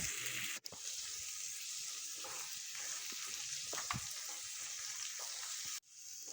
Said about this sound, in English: I put in pepper mix. I'll fry it for some time.